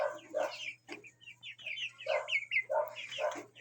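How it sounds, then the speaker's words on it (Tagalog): Several Rhode Island White and Leghorn cross hens cluck and chatter in bursts in a backyard, fairly close, with a steady low hum underneath throughout. "So ganyan talaga yung mga manok."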